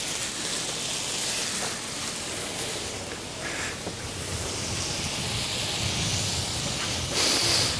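An anchovy mixture sizzles and hisses steadily in a hot pan, a soft broadband frying noise that holds throughout with a few small pops and spits.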